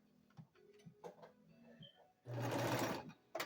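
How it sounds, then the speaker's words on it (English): A sewing machine stitches a quarter-inch seam. Soft ticking clicks of the mechanism lead up to a loud, close, steady one-second whir of fast stitching, ending with a final click. "I'm sewing a 1/4 of an inch"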